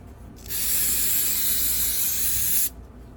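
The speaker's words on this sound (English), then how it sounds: "Let me spray this off because I dropped it." An aerosol can spraying cleaner onto a dropped Craftsman lawnmower part, heard as one close, steady hiss of about two seconds that starts and stops sharply.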